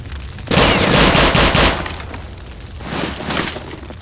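A loud, close burst of rapid automatic gunfire in Return to Castle Wolfenstein lasts about a second, then after a pause comes a second, quieter short burst, with no one speaking.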